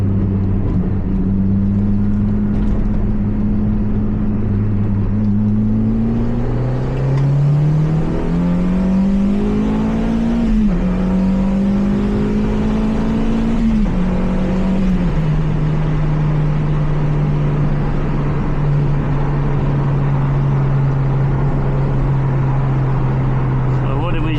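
A Toyota MR2 Spyder engine idles low and steady, then revs up several times in rising, wavering surges before settling back to a constant idle, with faint talk underneath.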